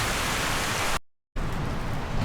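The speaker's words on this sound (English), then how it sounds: "I don't think it's going to stop raining this time." Steady, loud rain falls throughout, a dense even hiss that cuts out briefly before resuming at full strength.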